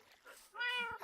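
Cat in the video game After the Snap giving a single short meow, fairly close but quiet, following a softer faint murmur.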